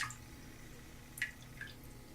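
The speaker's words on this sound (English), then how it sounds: "we're just going to dip that in the water and then smooth the excess water off" Water drips from a hair-mold piece just lifted out of water, giving a few soft, separate drops and light trickles over a quiet room hiss.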